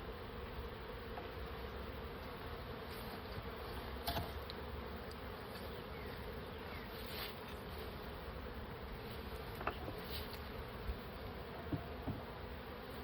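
Honey bees buzz steadily around an open hive during an inspection, a continuous dense drone with occasional louder close passes of individual bees, and no voices.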